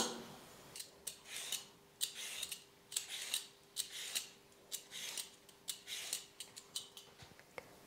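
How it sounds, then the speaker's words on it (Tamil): Cucumber being peeled and sliced in a home kitchen before going into a mixer jar for juice, giving a run of short crisp scraping and cutting strokes in an irregular rhythm, close and fairly quiet with no talk. "மேலே இருக்கிற தோலை சீவிட்டு அப்படியே நான் வந்து கட் பண்ணி மிக்சி ஜாரில் சேர்த்துக்கிறேன்"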